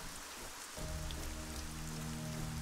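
Steady rain falls in the video game ArcaniA, a dense close hiss of drops that continues unbroken, joined partway through by a low sustained musical drone.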